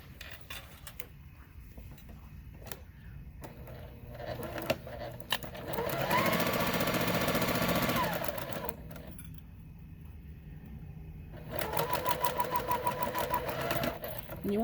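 A sewing machine stitching a quarter-inch seam on quilt pieces runs in two steady close bursts, with someone talking between and around them.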